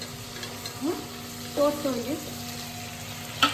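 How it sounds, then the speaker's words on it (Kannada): Onions frying on high flame for chicken biryani, a soft, steady sizzle with occasional stirring scrapes, while a voice speaks briefly. "ಈರುಳ್ಳಿ ಚೆನ್ನಾಗಿ ಫ್ರೈ ಆಗಬೇಕು"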